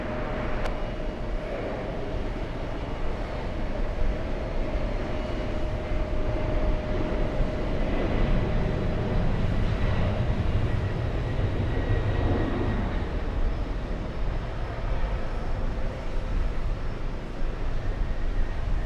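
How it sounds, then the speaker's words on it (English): Air Force One jet at JFK airport, a continuous loud broadband roar of aircraft engines holding steady throughout, with no voices over it. "All right, this is Air Force One, ladies and gentlemen."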